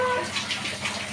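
Shower water runs steadily and close by during a wash with Tresemme shampoo, a continuous hiss of falling spray in a bathroom.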